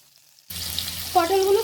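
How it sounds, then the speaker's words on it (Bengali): Pieces of pointed gourd (potol) drop into hot oil, and a loud, steady sizzle starts abruptly after a brief silence, then keeps bubbling close by. "পটলগুলো ফ্রাই করে নিচ্ছি।"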